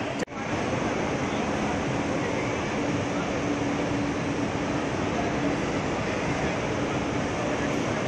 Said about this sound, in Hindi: अगर आप देखेंगे तो ट्रेन यहाँ लगी है